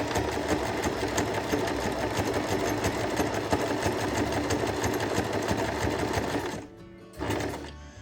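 A sewing machine stitches zigzag embroidery with a dense, continuous mechanical whirr that stops briefly near the end, then restarts for a moment before cutting out.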